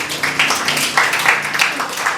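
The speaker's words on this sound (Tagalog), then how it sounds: "Pumalakpak yung handang magpatama." Church congregation clapping during a sermon, a steady patter of many hands with uneven bursts throughout, fairly close and moderately loud.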